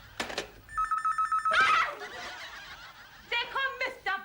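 A telephone bell rings in short bursts, repeating a few times, with voices and a laugh in between and afterward.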